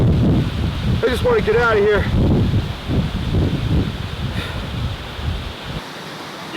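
Strong wind roars and buffets the microphone on a cold morning in the Sierra Nevada wilderness, a loud continuous rushing gust that drowns much of the scene while someone speaks briefly over it.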